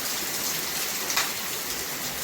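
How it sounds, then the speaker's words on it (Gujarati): Steady rain hiss near the Malan river bridge in Mahuva, an even broadband wash with a brief brighter splash near the middle and no voices. "આવે છે હવે વરસાદ."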